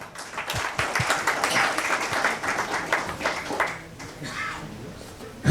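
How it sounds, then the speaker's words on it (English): An audience at a CSR conclave panel claps in a moderate round of applause that swells, holds for a few seconds, then thins out and fades toward the end. "I think so we should give a big round of applause to all of us."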